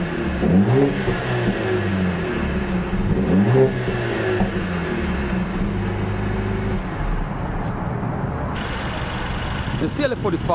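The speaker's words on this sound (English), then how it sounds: "CLA 45 has the handcrafted AMG 2-liter inline 4 turbo engine, and that outputs 382 horsepower with 354 pound-feet of torque." A 2023 Mercedes-AMG CLA 45 Coupe Edition 55 with its handcrafted AMG 2-liter turbocharged inline-four revs loudly and nearby in repeated rising and falling sweeps, then settles into a steadier rumble before a final brief burst.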